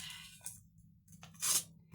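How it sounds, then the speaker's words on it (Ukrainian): A paper surprise packet being torn open by hand, heard as faint, brief rips and crinkles, with a sharper tearing burst near the end, all quiet and close with no speech. "І відкриваємо пакетик."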